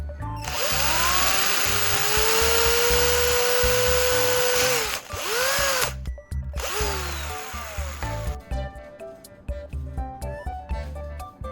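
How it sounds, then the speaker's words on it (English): A power drill re-bores bolt holes through plastic that has melted over them, a loud steady whine for about five seconds, a couple of short bursts, then quieter rattling and clicks. "I'll just go ahead and re-drill them to clear the way for the bolts."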